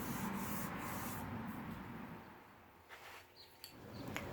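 Sandpaper worked by hand over an oak box at 120 grit, soft rasping strokes in a quick rhythm that fade to a few scattered scrapes and taps.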